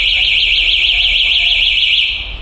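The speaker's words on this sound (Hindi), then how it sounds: "सर इसमें थेफ्ट अलार्म मिलेगा आपको।" An electric scooter's anti-theft alarm rings loud and continuous, a warbling high electronic tone that holds steady before cutting off near the end, with no talk over it.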